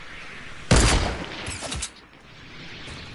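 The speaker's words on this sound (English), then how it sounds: "Bro, I'm getting sniped from two different spots, boys." A sniper rifle in the Fortnite video game fires one sharp, loud crack with a short echoing tail, followed by a fainter second report.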